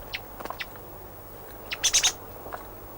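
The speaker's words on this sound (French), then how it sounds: "à ces heures-ci, les grives nous sollicitent" Thrushes calling near a Marseille hunting cabin, a few short, high chirps scattered over a quiet background with a brief cluster of louder calls in the middle.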